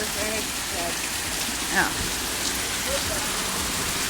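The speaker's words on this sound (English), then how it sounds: "Hailing like crazy." A hail and rain storm in Florida pours down as steady, dense roaring noise with hard pattering throughout, while a voice speaks briefly under it.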